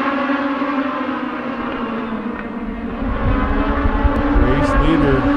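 NASCAR Superstock race cars roar down the backstretch of the Bullring speedway in Las Vegas, a dense, loud engine drone that swells as cars pass, with a commentator talking over it.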